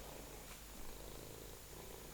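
A cat purrs faintly and steadily, a low continuous rumble under a wash of background noise, with no talking.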